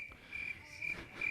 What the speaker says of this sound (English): even the crickets are cricketing